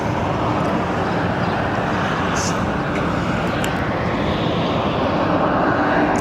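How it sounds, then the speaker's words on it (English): An American Airlines jet taking off at Barcelona, a loud, steady broadband engine roar that holds throughout at close range, with faint traffic noise beneath. "this is going to be the third takeoff, first American."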